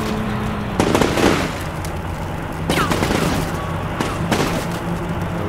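Gunfire in the war game Combat Mission Shockforce, an M60 machine gun firing with ricocheting shots, heard as loud bursts at intervals over a steady background hum and low rumble.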